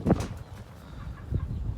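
Meat chickens in a makeshift pen cluck in a couple of brief close bursts, then settle into softer, low farmyard rustling and murmuring.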